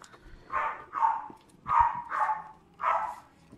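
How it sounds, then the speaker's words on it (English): Dogs bark in a fairly close, steady series of five sharp woofs spaced about half a second apart, with quiet background between them. "Dogs are going crazy here."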